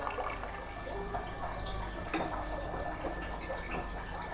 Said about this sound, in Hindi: आरओ देखिए आज चल गया, कभी कभी चल जाता है ये। तो ये पानी कलेक्ट कर रही है